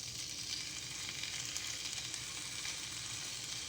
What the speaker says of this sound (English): Now that my skillet is warmed up, I'm going to start laying down